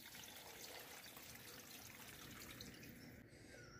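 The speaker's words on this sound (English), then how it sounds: "Half pan of water." Water being poured into a cooking pan while preparing Liberian fried okra with fish, a soft continuous trickle and splash, fairly quiet and alone without talk.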